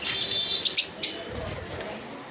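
Fischer's lovebirds at a bird sale give bright, high chirps in short bursts over a busy background murmur, with a few sharper calls standing out early on.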